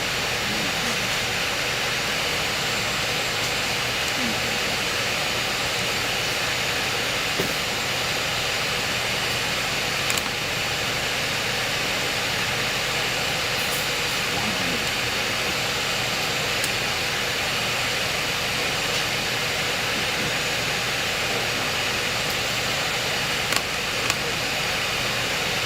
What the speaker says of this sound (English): Hands on throttles.